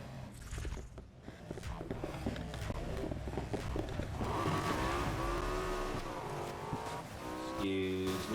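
Porsche 918 Spyder racing at night in Need for Speed Heat, a loud steady engine roar with rising revs and squealing tyres, ending in a sharp upshift.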